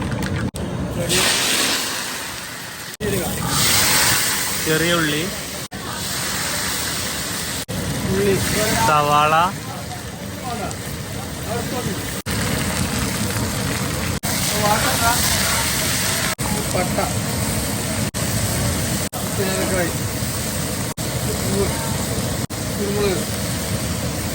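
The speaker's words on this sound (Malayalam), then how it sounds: "എണ്ണ ചൂടാണ് കടുക് കടുകാണ് ഇടട്ടാ" Mustard seeds crackle in hot oil while a Kerala fish curry is being made: a steady frying sizzle broken by scattered sharp pops, heard under almost constant talking.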